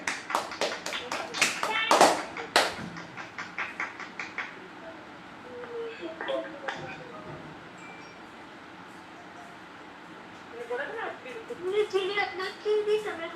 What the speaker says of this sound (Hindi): और ख्वाहिश के लिए तालियां बजाएं।